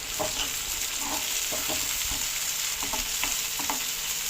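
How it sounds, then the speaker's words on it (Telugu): Sliced onions and green chillies frying in hot oil for a brinjal and tomato curry, giving a constant bright sizzle with soft, intermittent stirring scrapes, close and unaccompanied by speech. "ఇప్పుడు మనం ఉల్లిపాయలు, పచ్చిమిర్చి వేసుకొని ఇప్పుడు కొంచెం తిప్పాలి"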